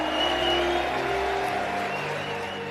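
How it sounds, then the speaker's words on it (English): Loud, continuous applause from a large crowd at a Turning Point USA event fills the space, a dense wash of clapping mixed with a low steady rumble. "I want our Turning Point USA students to receive a round of applause."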